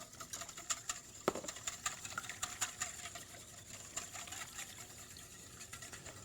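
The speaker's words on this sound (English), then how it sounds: "going to whisk in a couple of eggs" Whisking eggs into milk and orange juice in a cooking pot, a faint steady rapid patter of whisk strokes in liquid with light clicks, alone and with no talking.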